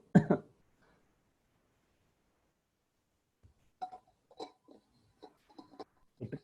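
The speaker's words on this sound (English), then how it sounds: "before I cough, I'll drink something." A short burst of coughing and throat clearing comes at the start, then a long quiet stretch, followed by scattered faint clinks and small knocks.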